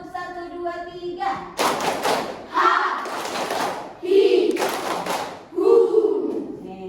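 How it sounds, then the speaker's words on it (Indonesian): Students in a classroom clap their hands in bursts of loud, rapid applause, several separate rounds broken by short pauses, with a voice speaking between them. "Tepuk tangan untuk kalian semua."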